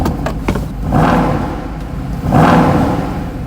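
A Mercedes-Benz SLS AMG naturally aspirated V8 engine revs twice, each rev swelling into a deep roar and falling back, with a rumbling idle between.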